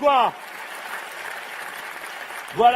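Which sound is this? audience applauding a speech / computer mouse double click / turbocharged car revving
audience applauding a speech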